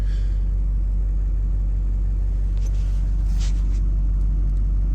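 A Duramax 6.6 diesel truck engine holds a steady high idle on a cold start, a constant low rumble throughout with faint clicks near the end, no talking.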